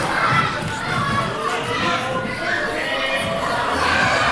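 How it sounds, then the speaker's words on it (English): A wrestling crowd at a live show keeps up a continuous, loud mass of voices, shouting and cheering together in a broad roar with no single voice standing out. "the crowd chanting for one more time"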